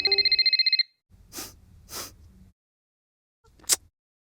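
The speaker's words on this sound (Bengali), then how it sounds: "আরে মা, তোমার ফোন কখন থেকে বাজছে?" A mobile phone rings indoors in a quick, close burst of bright electronic trills. It cuts off after under a second and is followed by soft breathing and a sharp gasp.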